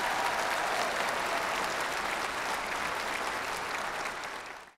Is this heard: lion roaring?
no